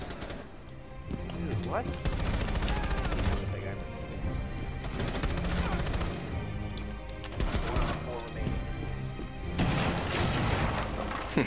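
Rapid bursts of gunfire from the shooter video game Rainbow Six Siege crack in repeated volleys with short gaps between them, loud and close, while players talk briefly over the action.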